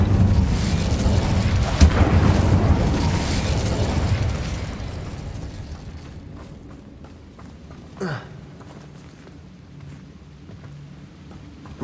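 An Incendio fire spell going off in Hogwarts Legacy: a loud fiery burst with crackling and rumble that fades away over several seconds, followed by a brief whoosh and quieter game ambience.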